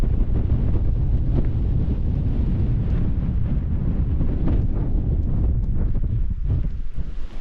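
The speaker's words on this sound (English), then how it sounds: "That wind's not easing up though" Wind roars at a winter campsite in sub-zero cold as a loud, continuous low rumble buffeting the microphone, with gusty surges and no voices.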